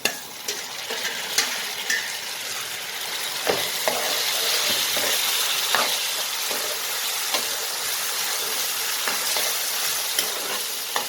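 Chopped tomato cubes fry in a pan for a Punjabi-style mixed dhal, a steady close sizzle with occasional stirring scrapes and clicks throughout.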